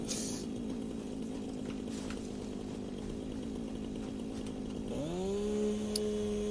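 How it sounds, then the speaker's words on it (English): A chainsaw in the video game Satisfactory idles with a steady buzzing drone, then revs up into a rising whine near the end, moderately loud with no voices over it. "In my world, there's now a chainsaw just hovering in the air."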